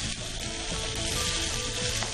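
Squid rings coated in flour sizzling in hot oil with garlic, a dense, constant close frying hiss with no voices over it.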